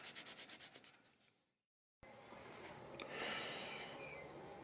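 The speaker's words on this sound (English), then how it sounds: "this thing is sanded up to 320, and sanded and sanded and sanded" Sandpaper rubs against a wooden vase spinning on a lathe, first in rhythmic pulsing passes that fade out, then after a short silence a steadier, louder hissing abrasion resumes up close.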